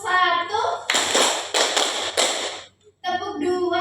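Children in an Indonesian classroom clap in a counting clapping game, with a few sharp rhythmic claps between stretches of a voice and children's speech.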